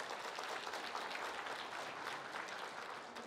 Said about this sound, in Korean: 진짜 그분 위해서 박수 한번 쳐주세요.